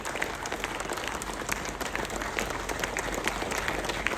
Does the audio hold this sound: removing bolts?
no